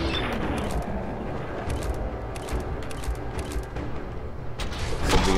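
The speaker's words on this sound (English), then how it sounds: "I hear gunfire already" Rapid bursts of distant gunfire in the video game Fallout 4 crackle over a dense, noisy background, repeating in short volleys throughout.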